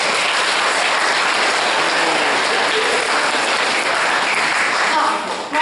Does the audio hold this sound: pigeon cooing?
no